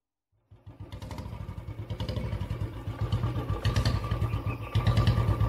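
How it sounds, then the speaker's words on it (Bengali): A motorbike rides into Bilbhadra village at night, its engine note starting abruptly and holding a steady, close putter that grows slightly louder and rougher toward the end. "মোটর বাইকটা নিয়ে যখন টিনু আর নন্দ বিলভদ্রা গ্রামে ঢুকল"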